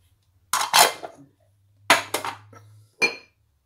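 A utensil clinks and scrapes against a bowl while mixing potato, chicken and egg for donuts, in three separate bursts of clattering, close and fairly loud, with silence in between.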